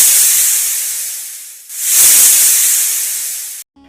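A cartoon snake hisses near a pond by a patch of taro greens in a village, a long loud breathy hiss that fades, breaks off briefly, then swells again before cutting out.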